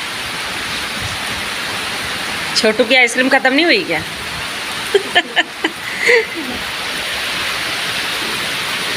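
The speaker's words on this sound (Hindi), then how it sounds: "इतनी ज़ोर से बारिश आई कि हल्के हल्के गीले हो गए हैं" Steady heavy rain pours down on farm fields with a dense, even hiss throughout, while a couple of people speak briefly in Hindi over it in the middle.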